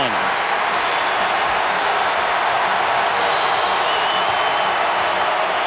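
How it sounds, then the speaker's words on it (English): A basketball arena crowd at an Ohio State versus Indiana game cheers and applauds in a steady, roaring wash of noise, with a broadcast commentator talking over it. "This crowd, which has kind of been slumbering throughout this contest, starting to come back to life."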